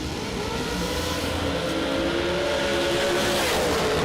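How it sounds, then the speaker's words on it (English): A TNT dragster launching off the line at a drag strip, a loud sustained engine roar building steadily with rising harmonic tones, continuous and close throughout. "Eric Pacheco out of Pueblo, Colorado. TNT Dragster right side."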